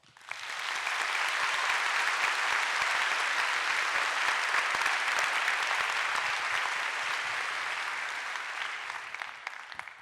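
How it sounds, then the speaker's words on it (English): A theater audience at the Eccles Theater applauds guests who shared their stories at a live true-crime event, a broad, even roar of clapping that swells in quickly, holds steady and eases slightly at the end. "I think they deserve a round of applause"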